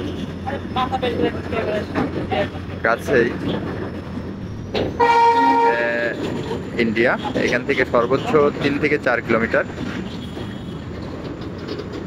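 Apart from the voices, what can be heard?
freight train moving slowly and picking up speed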